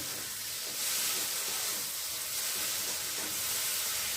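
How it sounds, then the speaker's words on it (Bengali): Prawns fry in hot oil in a pan, a steady, close sizzling hiss that stays even and continuous for the whole stretch with no one talking. "আর এখন চচ্চড়ি বানাবো, তার জন্য আগে দেখো চিংড়ি মাছটাকে ভেজে নিচ্ছি"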